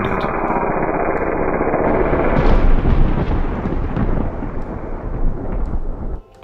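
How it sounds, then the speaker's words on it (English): The sea monster Wojira implodes in a loud, rumbling, thunder-like blast with heavy low-end roar and an echoing, effects-laden wash that swells and sustains for several seconds before cutting off abruptly. "with one final scream of agony, she imploded"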